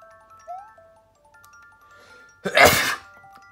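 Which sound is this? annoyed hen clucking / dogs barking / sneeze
sneeze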